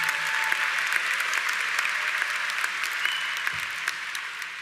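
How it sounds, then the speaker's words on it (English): An outdoor undergraduate commencement crowd keeps up steady, dense applause, even and sustained throughout with no breaks. "You can clap, that's what we're here for this morning."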